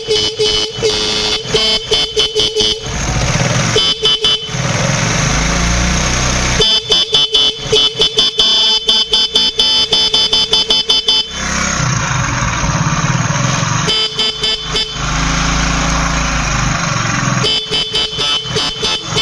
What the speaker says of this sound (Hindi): जैसा कि आपने देखा है कि हारन बेहतरीन चल रहा है